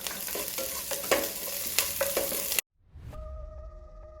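Small potato pieces sauté in a pan for chilly potatoes, giving a close, busy sizzle with scraping stirs for a couple of seconds. The sound then cuts off abruptly and leaves a faint, steady electrical hum.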